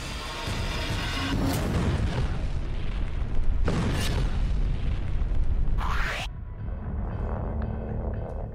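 A missile strike destroys a military target in the Russia–Ukraine war, heard as a continuous heavy rumbling roar with a booming burst partway through and a sharp rushing sweep before the noise drops.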